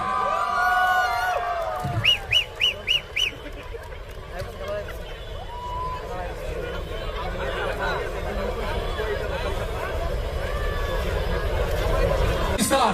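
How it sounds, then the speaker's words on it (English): Audience at a north-east India youth festival cheering and chattering as a large crowd, with a short burst of rhythmic whistles or shouts early on, then a sustained roar of crowd noise building steadily toward the end. "An applause, ladies and gentlemen."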